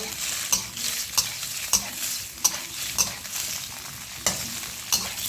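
Garlic and shallots stir-frying in a pan for a pork blood and bean sprout dish, a steady bright sizzle broken by regular sharp scrapes of a spatula, close and loud with no talking.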